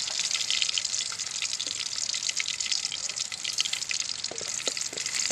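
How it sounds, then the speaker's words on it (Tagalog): Garlic sizzles and crackles in hot oil in a pan, a steady bright frying hiss with occasional pops and a few soft stirring knocks, close and continuous. "Pulahin natin yung bawang."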